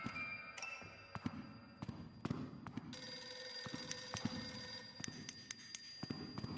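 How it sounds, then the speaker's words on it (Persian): A telephone rings in the horror video game The Classrooms, its repeated bell bursts sharp and fairly close, set against a faint, hollow game ambience. "که یه تلفنی داره زنگ میخوره."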